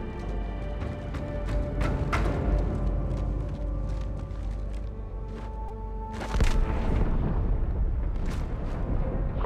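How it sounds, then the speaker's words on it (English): A deep, sustained explosion rumble from inside the starship Athens in Halo 2, with a fresh loud burst partway through, layered with crackling debris and game noise and no talking. "That explosion came from inside the Athens"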